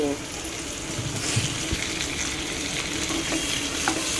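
Tomato frying in a pan with other ingredients in a home kitchen, a steady close sizzle and crackle with light stirring scrapes, continuous and fairly loud.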